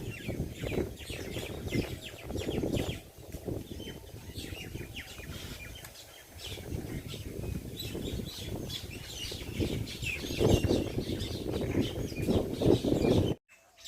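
Birds chirp on and off in a village while wind rustles and blows steadily throughout, the calls faint and scattered under the wind with no voices.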